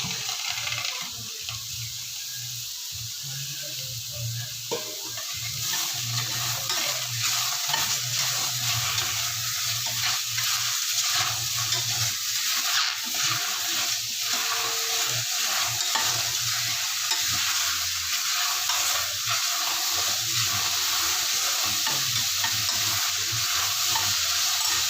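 Tomatoes fry and get stirred in a pan for ridge gourd chutney, giving a steady close sizzle with repeated scraping and stirring, and no voices.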